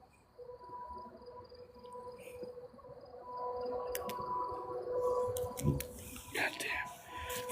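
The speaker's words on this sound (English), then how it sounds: "Fucking June bugs are out." Insects outdoors at night, with June bugs about, sound as a steady thin chirring drone, while people talk quietly nearby and occasional clicks and knocks come through.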